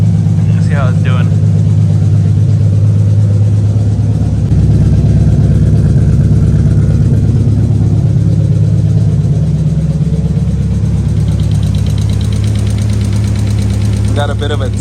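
A 1990–1996 Nissan 300ZX engine with a misfire problem idles loudly and close, a constant deep rumble with a slight ticking knock running steadily throughout, and voices briefly heard over it.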